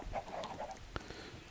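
Chickens clucking in Minecraft, a few soft short clucks over a quiet farm backdrop with a sharp click near the middle.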